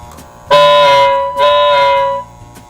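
A steady, reedy toy train whistle from a Lionel tender blows twice, the first blast about a second long and the second slightly shorter, close and loud over faint mechanical hum.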